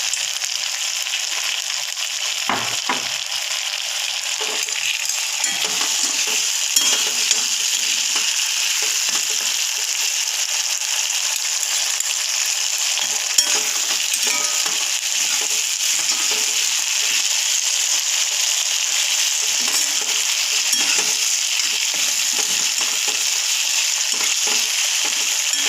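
Chilli chicken frying in a pan, a loud, steady hiss of sizzling oil that runs without a break, broken by scattered scraping and clacking as the pieces are turned and stirred.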